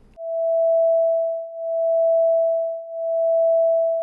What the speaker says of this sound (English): Here's a pure tone version.